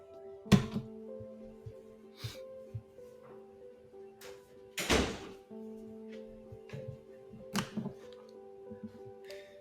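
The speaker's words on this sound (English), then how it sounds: "I'm gonna close this door behind me." A door is pushed shut indoors, giving several sharp thunks and knocks, the loudest near the middle, over a faint electrical hum.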